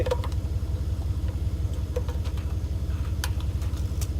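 A Ford 460 V8 with Duraspark ignition runs on an engine stand on the ground, idling close by with a steady, pulsing low rumble. A few faint clicks and taps sound over the idle.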